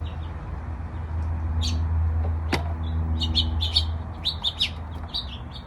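Small birds chirping at a camera-equipped bird feeder, short bright tweets and calls in irregular bursts close by over a steady low hum, with one sharp click partway through.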